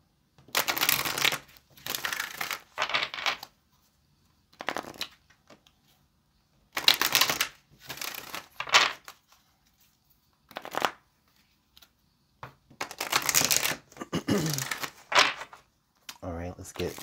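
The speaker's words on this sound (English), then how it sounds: "All right, let's get this last shuffle." Tarot cards are shuffled by hand in several separate bursts of quick riffling and flicking, each lasting a second or two, with silent gaps between them and no talking.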